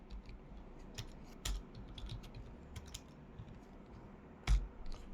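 Sparse, quiet taps on a computer keyboard while writing a C program, a few isolated keystrokes with a couple of louder clacks against soft background hiss.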